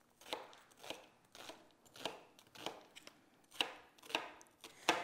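A knife chops zucchini into small squares on a cutting board, about nine crisp, evenly spaced strikes at a steady rhythm, close and fairly quiet, with no talking.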